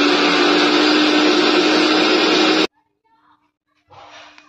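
A mixie grinder jar blends soaked chana dal into paste, a loud, close, steady whirring roar that cuts off abruptly, followed by faint handling sounds and a brief murmur of talk.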